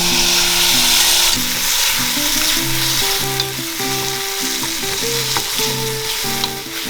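Peppers sizzle loudly in a pan as tomato sauce made with basil, tomatoes and garlic is added for shakshuka, a constant frying hiss that continues without any talking.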